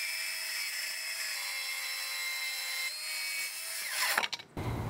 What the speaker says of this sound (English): with just a circular saw, we were able to do a nice 45 degree beveled cut